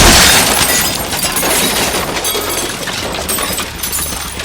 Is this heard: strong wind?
no